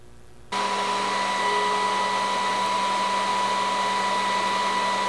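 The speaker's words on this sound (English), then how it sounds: "But putting the blow dryer on here" A blow dryer switches on after a brief quiet moment and runs steadily, a loud, constant whooshing hum with a high motor whine.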